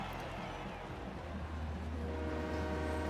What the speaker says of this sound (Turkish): Trene karşı mı yarışacağım?